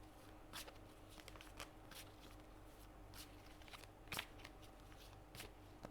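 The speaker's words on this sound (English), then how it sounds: "So I'm going to shuffle the cards." Tarot cards being shuffled by hand, a quiet run of crisp riffling snaps and soft papery slides repeating at irregular intervals, close up with no talking.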